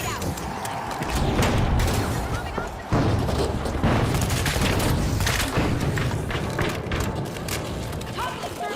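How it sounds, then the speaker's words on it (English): Grenade thrown in a video game, followed by a loud blast amid dense ongoing gunfire and booms, with a sharp jump in loudness near three seconds; voices talk over the chaotic battle. "Blitz grenade out."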